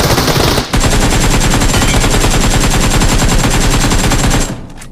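Loud, sustained automatic gunfire in the BGMI mobile battle royale game rattles off as one rapid, unbroken burst lasting several seconds, with a brief gap near the start.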